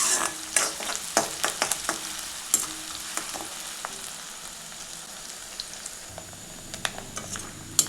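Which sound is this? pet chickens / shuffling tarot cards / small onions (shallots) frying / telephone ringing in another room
small onions (shallots) frying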